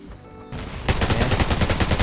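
Rapid bursts of automatic gunfire in the shooter video game Undawn start after a quiet moment and continue as loud, dense, continuous rattling shots.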